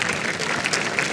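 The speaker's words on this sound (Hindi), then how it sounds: "तालियां बजाओ भाई" Applause from a seated audience greets a guest, a short, dense burst of many people clapping at once, loud and even with no talking over it.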